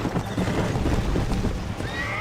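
A horse in the Red Dead Redemption video game whinnies and snorts with hoof clip-clops underneath, sounding close and moderately loud across a short burst.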